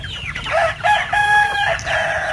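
Chickens cluck close by while a rooster lets out a long crow during morning feeding on a countryside farm, giving a brief, loud burst of barnyard calls.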